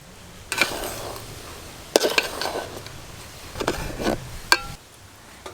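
A metal lid lifted off a pot of rice pulao cooking on the stove gives a few sharp clinks and clatters at close range, with quiet pauses between them.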